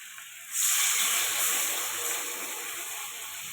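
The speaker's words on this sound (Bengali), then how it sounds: "পরিমাণ মতো জল দিয়ে দিলাম।" Water is poured into a hot pan of spices that have been frying with chili powder for a fish and potato curry. It sets off a sudden loud hiss of steam that slowly fades to a softer bubbling sizzle.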